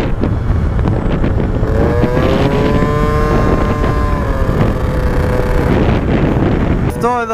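A Gilera scooter fitted with a 70cc Malossi kit rides at half throttle, its engine buzzing loud and close with rising and falling pitch, buffeted by wind noise, with no talk over it.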